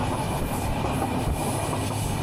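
Banolata Express, a broadgauge nonstop Bangladesh Railway train on the Dhaka–Rajshahi–Chapainawabganj route, running on the rails with a steady, continuous rumble and faint clickety-clack, close and loud, with no voices.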